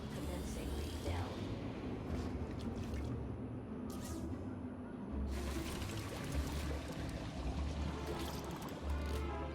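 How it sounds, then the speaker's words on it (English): Water pouring during a refill in the video game Beyond a Steel Sky: a steady, faint splashing stream with dripping, running for nearly ten seconds under occasional speech. "Commencing refill."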